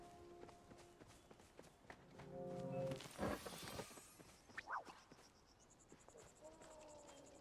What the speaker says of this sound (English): Stupid bark cicadas.